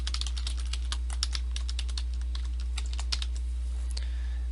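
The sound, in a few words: typing website name on computer keyboard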